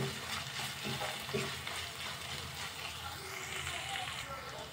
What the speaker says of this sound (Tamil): ஒரு வாட்டி மிக்ஸ் பண்ணி விட்டுடலாம்.